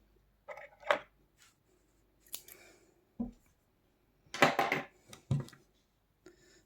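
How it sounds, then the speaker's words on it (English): Scissors snip cotton yarn while a citrus coaster is being crocheted: a few separate, crisp close-range cuts with short pauses between them in a quiet room. "Then we can cut our yarn."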